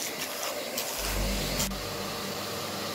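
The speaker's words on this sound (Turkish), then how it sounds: "şu an çalıştırmış olduğumuz süpürge makinemiz kırmızı favori" A red Beko vacuum cleaner runs steadily on rugs, a broadband motor whine with a low hum that strengthens partway through, close and continuous without talk.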